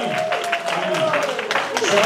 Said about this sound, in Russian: Аплодисменты Отцу Сыну и Святому Духу